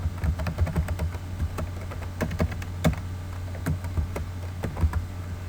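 Keys clatter on a computer keyboard in quick irregular bursts of clicks, close and distinct over a low steady hum.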